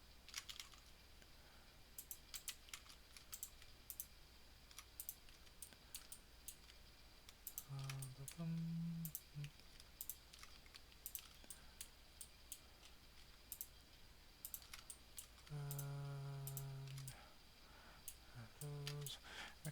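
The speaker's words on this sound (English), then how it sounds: "hitting Shift Alt and left clicking" Computer keyboard keys tapped and a mouse left-clicked while editing a 3D model, with sharp scattered clicks throughout, quiet and close, and occasional brief tonal beeps in between.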